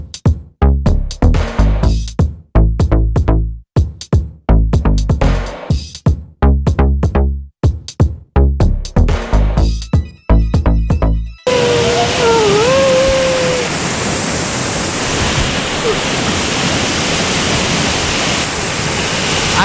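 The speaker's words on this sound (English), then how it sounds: "so here's the falls guys." After a stretch of loud rhythmic music, a waterfall's continuous broad rushing roar takes over, steady and close, with a brief voice-like sound over it.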